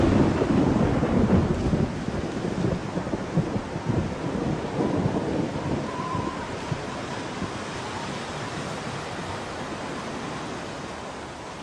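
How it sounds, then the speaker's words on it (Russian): Thunderstorm with lightning: a heavy, continuous roar of rain and rolling thunder, loudest at the start and easing slightly toward the end, with no voices. "Молния."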